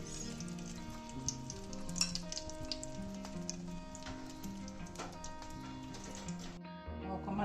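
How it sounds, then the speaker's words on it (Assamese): Dried red chilies sizzle in hot oil in a home kitchen, a steady crackling fry with scattered pops and ticks over a faint background tone, close and moderately loud throughout. "শুকান জলকীয়াটো এতিয়া তেলত দিম।"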